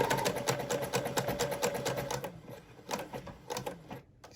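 A sewing machine top stitching a knit neckband runs in steady rapid rhythmic bursts of needle strokes, close and fairly loud, pausing briefly near the end before starting again.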